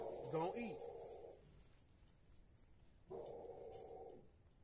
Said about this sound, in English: Why is the dog barking?